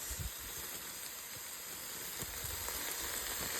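Green onions sizzle in a hot pan as part of a Korean bowl mixture, a steady soft frying hiss with faint crackles, moderately quiet and without speech.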